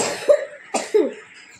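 A young child coughs two or three times, close and fairly loud, with brief pauses between the harsh bursts.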